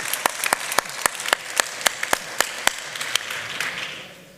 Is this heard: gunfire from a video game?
no